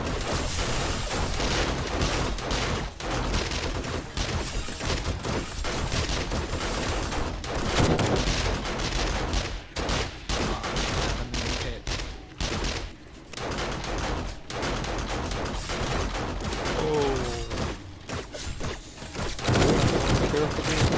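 Automated turret firing in 7 Days to Die, dense bursts of close, loud gunfire repeating through the whole stretch with thumps and mechanical clatter mixed in.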